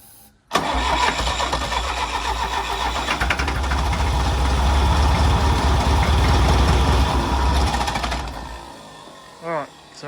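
A John Deere 2010 diesel tractor engine cranks over for about eight seconds, a loud, rapid, rhythmic chugging from the starter that never catches, followed by a short voice.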